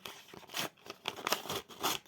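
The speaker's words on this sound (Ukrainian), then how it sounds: "Відкриваємо наш пакетик." A small collectible packet is torn open by hand, bursts of close crinkling and ripping in quick irregular pulls, fairly loud against a quiet room.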